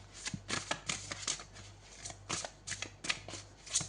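Large oracle cards riffle and slap in quick, crisp bursts as they are shuffled and drawn, close and soft, with no talking.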